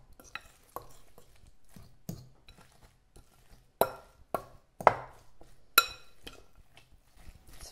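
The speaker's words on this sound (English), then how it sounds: "Let me stir it and see" Spoon stirring and scraping twice-baked potato filling in a bowl, irregular clinks and taps against the dish with several sharper knocks, close and fairly quiet.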